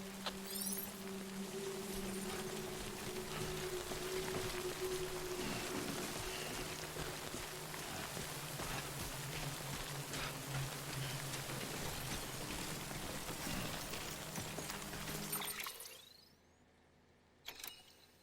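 Steady rain falling in the video game Death Stranding, a dense continuous hiss with faint low hums beneath, cutting off abruptly near the end into near silence.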